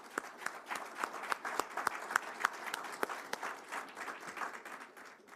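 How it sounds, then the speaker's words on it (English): An audience at a charity golf tournament announcement applauds its volunteers: a moderate spread of individual hand claps, sparse and irregular, rising and falling without talk for several seconds. "please give them our big round of applause"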